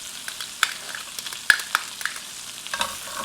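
Minced garlic in melted butter in a skillet gives a light, crackly sizzle broken by sharp utensil taps and scrapes, close up and fairly quiet, with no talking.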